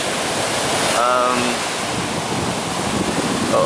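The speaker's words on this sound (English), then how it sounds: "Welcome to Terrigal Beach." Surf rolls onto Terrigal Beach in Australia as a steady, loud wash of broadband noise, with a brief tonal sound rising over it near the start.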